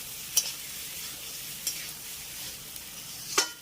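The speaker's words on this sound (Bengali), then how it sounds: "এই সাবুটাকে এই সমস্ত কিছুর সঙ্গে খুব ভালো করে মিশিয়ে দিতে হবে" A sabudana mixture is stirred in a hot pan, making a steady, faint sizzle broken by a few sharp scraping knocks of the spoon, with no voices.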